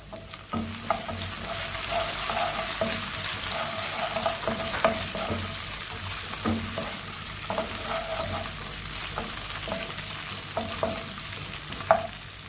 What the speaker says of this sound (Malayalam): അതിലേക്ക് 2 തണ്ട് കറിവേപ്പിലയും 3 പച്ചമുളക് നടുകെ കീറിയതും ചേർത്ത് കൊടുക്കാം.